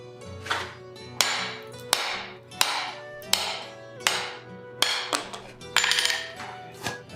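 A blacksmith strikes forged steel at the anvil to cut a piece off, sharp ringing hammer blows landing about once a second, close and loud, each followed by a metallic ring.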